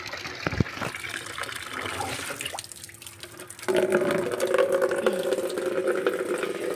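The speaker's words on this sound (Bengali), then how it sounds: "দেখো জল ভরে গেছে।" Water runs into a container outdoors on a sunny morning, a gushing tap-like flow that shifts and grows fuller and louder partway through, with a few drips early on and no voices.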